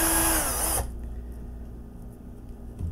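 A power drill bores into a die-cast Hot Wheels toy car's metal body, a loud high whine for under a second before cutting off to quiet hum and faint handling noises.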